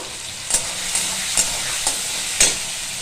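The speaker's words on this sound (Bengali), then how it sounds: "ভেজে নেবো একটু ভালো করে।" Tomatoes frying with salt, turmeric and spices in a pan, a steady close sizzle with a few sharp clinks of a spoon stirring at irregular intervals, no talking.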